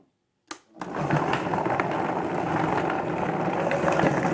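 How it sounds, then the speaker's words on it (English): A blender switched on at low speed while making a Brazil nut and cashew raw vegan cheese; after a short click the motor starts and settles into a steady, loud whirring drone. "I'm going to turn on the blender to start at low."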